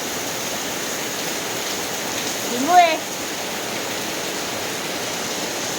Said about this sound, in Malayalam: ഇങ്ങു മഴ നല്ല മഴ കണ്ടുകൊണ്ടിരിക്കുക